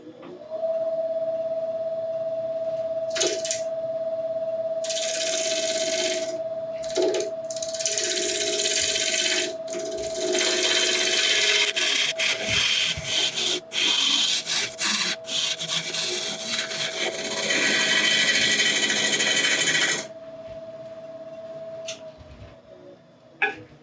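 Lathe spinning a black locust burl bowl as a gouge takes repeated shaping passes, a steady motor hum under bursts of scraping, rasping cuts that start and stop across the pass.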